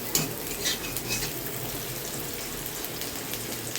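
Onion paste frying in a pan for chicken curry, a steady close sizzle with crackly bursts near the start, continuous and alone without talk.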